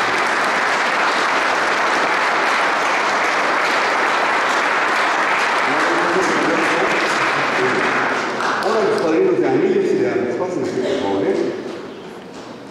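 Guests at a wedding ceremony applaud in a dense, sustained burst of clapping that fills most of the stretch, with voices rising over it near the end before the clapping tapers off.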